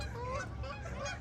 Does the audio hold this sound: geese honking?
yes